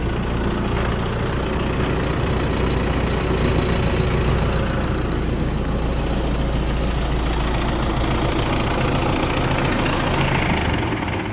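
A 2012 MTZ-82.1 tractor's diesel engine idles steadily and loudly up close, a constant low rumble with no pauses.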